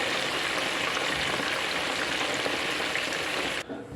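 Eggs frying in hot oil in a frying machine for Nigerian egg rolls, a steady dense sizzle that runs loud and unbroken before cutting off abruptly near the end.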